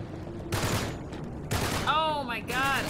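Bursts of gunfire from the Uncharted 3: Drake's Deception video game, set on a cruise ship, crackle in two or three rapid volleys, with quieter game sounds and warbling effects between them and no clear talking.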